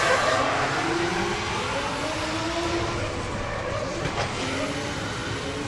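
Ryan Toporowski's drift car, running for Yellow Speed, launches off the line at a British Drift Championship 2019 Pro-Am qualifying round, its engine revving in a steady, rising roar with pitch sweeps over continuous crowd and track noise.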